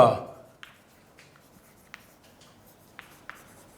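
Faint, scattered scratches and taps of a pen writing notes on paper, a handful of short strokes spread over a few seconds in a quiet room after a brief louder sound at the start.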